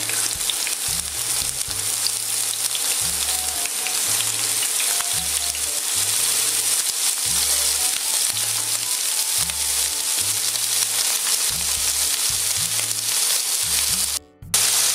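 Drained shrimp fry loudly in a hot wok with a dense, continuous sizzle that stays strong the whole time, with a steady low pulsing hum beneath it and a brief dropout near the end.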